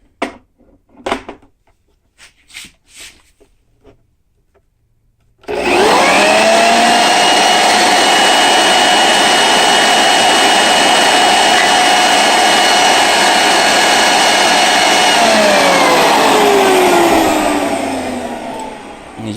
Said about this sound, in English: the leaf blower. See if it'll do the same thing. 7 feet away.